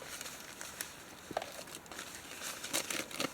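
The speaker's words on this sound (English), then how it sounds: "That feels like a plastic bag." Quiet, close crinkling of thin plastic, with scattered soft rustles and crackles coming in uneven bursts.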